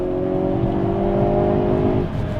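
Hyundai Kona N engine accelerating hard in a low gear, a loud steady rising drone with strong harmonic whine, close and continuous with no talk.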